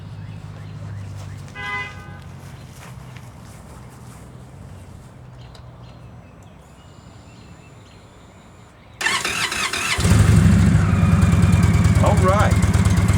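A 2003 Kawasaki Vulcan 1600 motorcycle cranks and fires up, then settles into a loud, close, rumbling idle after a quieter stretch with a brief beep and low background hum; someone speaks early on.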